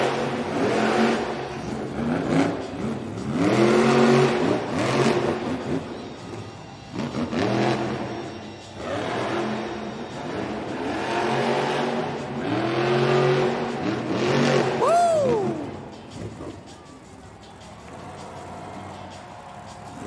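A monster truck engine revs repeatedly during a Monster Jam freestyle run at an indoor arena in Newark, loud surging roars rising and falling in pitch, with crowd noise beneath.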